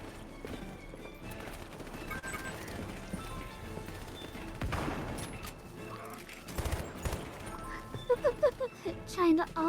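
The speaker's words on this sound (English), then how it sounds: "Sniper shotgun." Gunfire from a sniper shotgun in the video game Hypercharge: Unboxed, a series of sharp bursts and volleys over busy game music and effects, louder toward the end.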